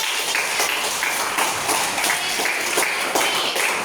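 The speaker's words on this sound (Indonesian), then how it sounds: "Tepuk tangan" Applause from a class of students after a correct answer in a religious lesson, steady dense clapping throughout at moderate loudness with no voices.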